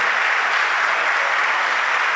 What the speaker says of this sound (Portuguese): Nós queremos aplaudir Jesus na vida deles nessa noite.